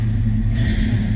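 The engine of a 1964 Chevrolet Chevelle Malibu SS catches and settles into a deep, loud, close rumble with a brief rev.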